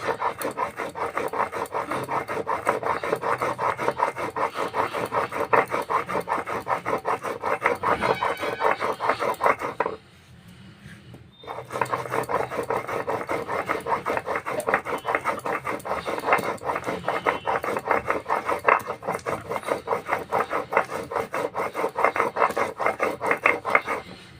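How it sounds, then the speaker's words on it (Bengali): Mustard seeds are ground finely on a grinding stone, a close, steady rhythm of rasping back-and-forth strokes that pauses briefly near the middle and then resumes at the same pace. "এইভাবে ভালো করে মিহি করে বেটে দিতে হবে সর্ষেটাকে"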